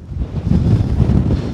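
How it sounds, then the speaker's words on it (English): Strong wind on the Cheviot Hills in Northumberland buffeting a raised camera, loud rumbling gusts battering the microphone in uneven surges throughout, with no voices. "Oh, the wind, when I put the camera up in the air, that wind knock grabbed the hold of it there"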